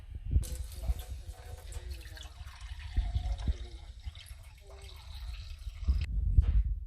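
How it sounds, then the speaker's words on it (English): Water is poured from a tap into a blender tumbler in a kitchen, giving uneven splashy trickles with a few knocks and clunks, louder near the end. "we're just going to top up our tumbler with a bit of water"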